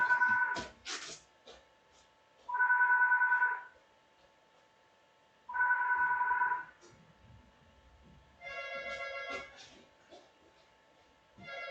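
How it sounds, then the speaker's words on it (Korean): A home landline telephone rings in a nearby living room, four separate electronic bursts of about a second each, spaced a few seconds apart, fairly loud and clear with no one talking over them. "잠깐만 지금 전화가 오는데, 이게 내버려둘까요? 저 소리"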